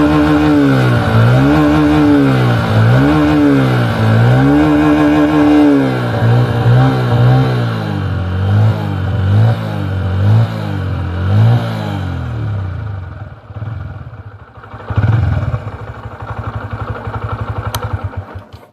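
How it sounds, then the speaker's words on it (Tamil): A Honda CB Hornet 125 motorcycle exhaust note, loud and close, with the engine revved repeatedly in rhythmic rising and falling pulses before settling to a rough idle, no talk over it. "எக்ஸாஸ்ட் சவுண்டு கேளுங்க, யாருக்குமே பிடிக்காம இருக்காது."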